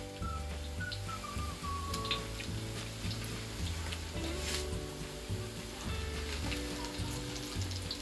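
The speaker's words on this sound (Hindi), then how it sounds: "अब हमारी फिश पकौड़े जो है फ्राई हो रहे हैं।" Fish pakoras deep frying in hot oil give a steady, faint bubbling sizzle that runs evenly throughout, with no one talking.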